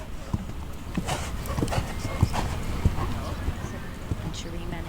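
Rhythmic hoof beats of a dressage horse moving through collected and extended trot, steady clip-clop under a commentator's voice and faint background crowd noise.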